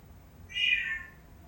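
A single cat meow from the Alexa Box of Cats skill, clear and fairly near, a short rising-falling call against quiet background.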